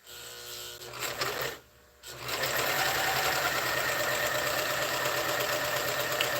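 A sewing machine with its blade removed runs loud and steady after a brief pause, its rapid mechanical buzz and needle chatter continuing evenly to the end.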